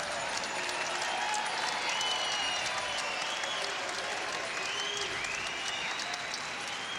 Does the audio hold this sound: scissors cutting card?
no